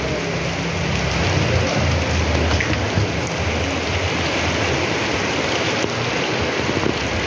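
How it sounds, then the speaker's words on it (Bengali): Heavy downpour around a crowded train, a dense continuous hiss of rain pelting surfaces, loud and even throughout, with faint low rumbles and no voices. "প্রচণ্ড বৃষ্টি হচ্ছে"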